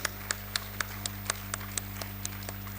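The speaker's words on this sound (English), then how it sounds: "Can we have a huge round of applause for the entire panelists?" Applause for the panelists at an international conference of chief justices: about a dozen evenly spaced sharp claps, moderately close, over a steady low hum in a large hall.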